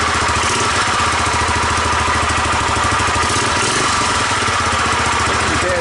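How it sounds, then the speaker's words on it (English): A 1985 Honda ATC250SX three-wheeler engine idles with a rough, steady mechanical chatter and ticking from the head, a close, continuous putter with no talk over it. "Not only started, but it's idling. It's making bad sounds."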